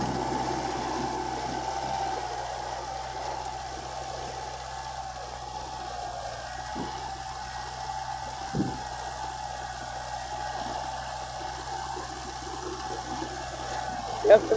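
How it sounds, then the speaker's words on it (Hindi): A Kubota MU4501 tractor engine drones steadily at a low, even pitch throughout while pulling a plow, with a couple of faint knocks and no talking. "ट्रैक्टर का कुबोटा का इतना आवाज भी नहीं है।"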